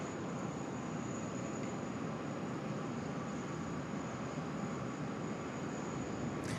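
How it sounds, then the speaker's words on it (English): A UPS Boeing 747 sits parked on a stand at Sydney Airport as its engines spool down, giving a steady, even roar with a thin high whine that holds at a constant level throughout. "Wonderful views there of the UPS 74 just parked there on bay number 5 Alpha, spooling down"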